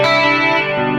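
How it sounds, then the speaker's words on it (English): Electric guitar played through a Rockman X100 headphone amp with echo and chorus effects on, a short, loud, sustained chord ringing bright and shimmering on its own. "This is with the echo and the chorus on."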